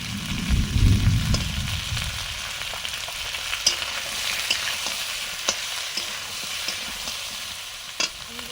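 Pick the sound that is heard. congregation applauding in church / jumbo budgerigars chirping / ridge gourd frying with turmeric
ridge gourd frying with turmeric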